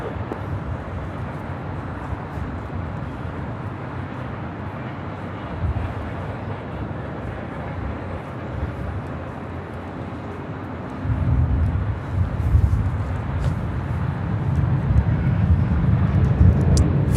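A Southwest airliner takes off from runway 24 left at Los Angeles International Airport, a low, distant engine rumble that swells noticeably louder and rougher in the last few seconds.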